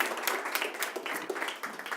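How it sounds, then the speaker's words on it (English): A church congregation claps for a woman invited up for an interview; a brief, moderately loud patter of scattered hands with some individual sharp claps standing out. "So everyone give Amy a round of applause."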